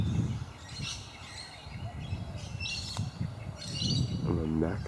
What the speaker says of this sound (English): I'm holding on these birds because they have a very, very interesting sound.